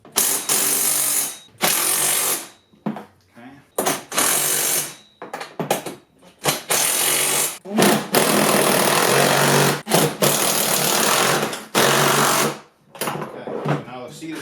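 A power driver tightens bolts on the rear seat kit frame of a 2006 Club Car DS 48-volt electric golf cart, with repeated loud whirring bursts separated by short pauses.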